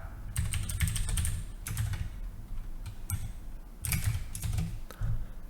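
Someone types Python code on a computer keyboard. Close, steady clicking comes in irregular bursts with short pauses between them, and no one speaks.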